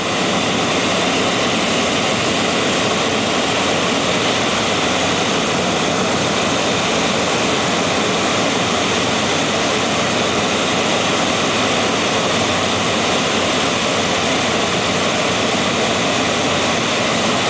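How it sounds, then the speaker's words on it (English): Cabin of a light airplane with flaps down on final approach into Amboseli National Park: a loud, constant engine and propeller drone with rushing air noise, unbroken throughout. "You can see the flaps have already come down. So we are now preparing for our final approach into Amboseli."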